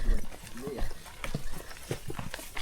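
Horse clip-clopping on a path near Taytay Falls in Majayjay, Laguna, one of many horses hauling vegetables; hoof knocks come in an irregular rhythm, fairly close, with people talking over them throughout.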